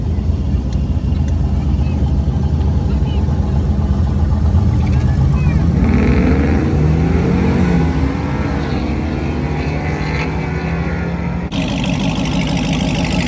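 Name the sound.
drag racing cars at Shadyside test and tune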